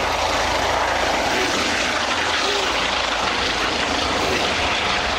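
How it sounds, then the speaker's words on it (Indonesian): Helicopter-like whirring drone in a toy vehicle setting, a loud continuous engine-and-rotor roar held steady throughout, with no speech on top. "Helikopter."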